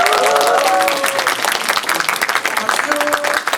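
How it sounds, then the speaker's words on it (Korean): Strong audience applause in a cinema hall greeting guests at a special film talk, dense steady clapping mixed with cheering voices throughout. "큰 박수로 맞아주세요"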